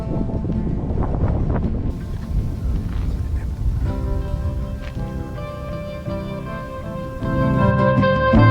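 Breeze blowing across the microphone on a morning hike in Sri Lanka, a steady rushing wind noise that fills the whole stretch, with a brief tonal hum mixed in toward the end.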